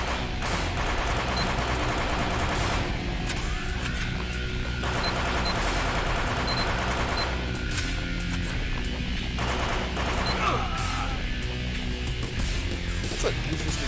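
Rifle gunfire in a video game rattles in dense, continuous bursts of rapid shots, loud and close, layered over a busy mix of game effects with no pauses.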